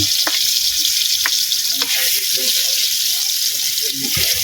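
Ginger sizzles in hot oil in a pan while being sautéed for Chinese-style squid adobo, a steady, loud frying hiss with a few sharper crackles and soft stirring throughout.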